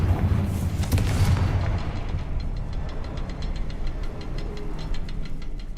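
The Confringo blast spell in Hogwarts Legacy, a heavy booming burst at the start that rolls into a rumbling, knocking tail and a faint crackle as it fades.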